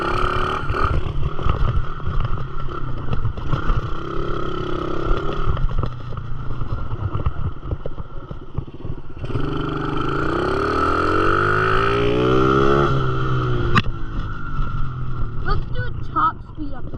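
A dirt bike engine runs hard at top speed, a steady loud drone with a rising whine in the middle, and someone talks over it.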